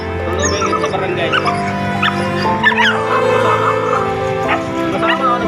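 A stray dog whimpers and yips in short, high, wavering cries repeated close by over steady background noise, with people talking nearby.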